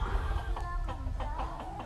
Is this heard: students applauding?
no